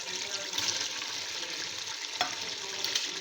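Cabbage goes into sautéed beef for beef macaroni, and the steady sizzle of frying fills the pan. Faint stirring scrapes come and go with a couple of brief clinks, and no one speaks.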